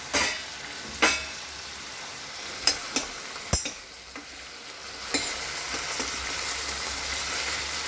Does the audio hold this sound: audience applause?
no